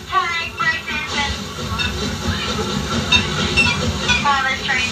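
A moving passenger train rumbles and hisses steadily at close range, with a voice talking over the continuous low roar throughout.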